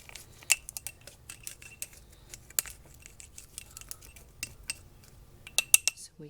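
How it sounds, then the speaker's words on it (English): Plastic debubbler tool pushed down inside a glass jar packed with canned mixed vegetables, giving scattered sharp clinks and scrapes against the glass with irregular taps and quiet pauses, close by. "take your debubbler and move it down, and see how it moves down the veggies"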